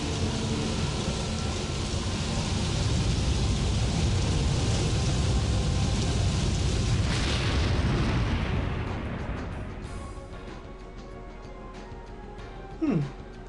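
Kongol's final Dragoon magic attack in Legend of Dragoon: a long, loud roaring rumble like a storm of explosions that holds for about nine seconds, then fades to a lower hum with scattered effects and a brief swooping tone near the end.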